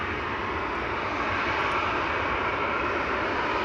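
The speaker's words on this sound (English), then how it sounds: "here we have KLM flight 1851 to Munich" A KLM Boeing 737 jet at an airport, a continuous broad engine roar at steady moderate loudness, alone without talk.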